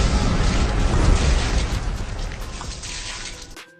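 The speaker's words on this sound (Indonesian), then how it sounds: "Mentor pun menembakkan senjata rakitannya dan tubuh Kopet pun meledak." A body bursts apart after a shot from a homemade gun, heard as a loud booming blast with a dense, noisy rumble that slowly fades out over a few seconds.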